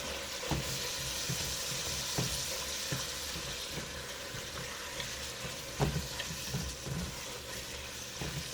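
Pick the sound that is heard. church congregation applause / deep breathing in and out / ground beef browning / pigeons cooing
ground beef browning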